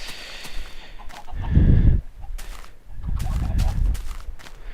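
Minecraft chickens in a chicken factory cluck in a couple of low, muffled bursts, close and moderately loud, with quieter game sounds between them.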